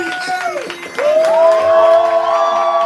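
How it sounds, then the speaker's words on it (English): At a live poetry slam, an audience claps, whoops and cheers for the next poet, a loud, dense crowd roar that swells after a brief dip and stays sustained, with shouted voices mixed in. "We're clapping, we're building energy, we're making all the noise for Lady"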